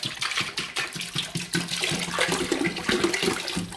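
Water is poured out of a container in a continuous gushing, splashing stream that runs close and fairly loud for a few seconds, with no talking.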